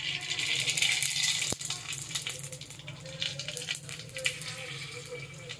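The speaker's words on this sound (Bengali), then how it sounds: "আলিশা একে একে ফুচকাটা দিচ্ছে আর আমি ভাজছি।" Fuchka puris frying in hot oil, a soft steady sizzle with faint bubbling, fairly quiet and continuous with a brief sharp knock partway through.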